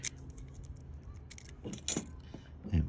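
A locksmith handles a bunch of freshly cut metal keys, giving several short, quiet jingles and clinks with pauses between them and a faint clunk at the end.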